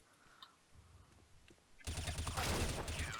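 Counter-Strike: Global Offensive gunfire begins as a quiet stretch with faint clicks, then turns into a loud, dense burst of rapid shots in the second half.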